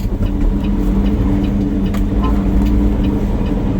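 An owner-operator's truck exits the freeway at North Avenue in Fresno, a steady, loud low engine drone rolling continuously with no speech over it.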